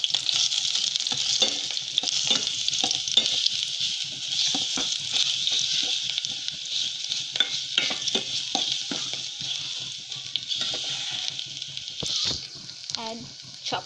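Ginger garlic paste fries in hot oil with a bright, continuous close sizzle, broken by spattering pops and occasional stirring clatter, for a lengthy stretch.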